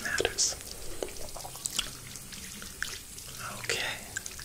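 Warm water drips and trickles through hair during a salon-style shampoo and rinse, soft close splashes and drips with faint whispery movement in a quiet room.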